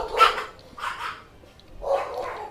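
Dogs in a video game give three short, sharp barks spaced about a second apart, loud and close, with quiet gaps in between.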